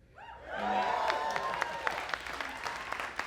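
A comedy club audience breaks into applause that swells quickly and holds steady, a dense wash of clapping with a few louder individual claps and some faint cheering mixed in.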